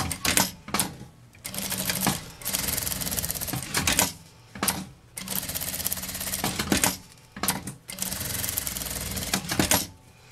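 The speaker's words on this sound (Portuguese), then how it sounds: "vou passar uma costurinha com um pé de máquina nas duas laterais e nessa partezinha aqui" A domestic sewing machine with a presser foot runs stitches along the sides of a summer beach bag in bursts of rapid mechanical whirring separated by short pauses, loud and close with no talking.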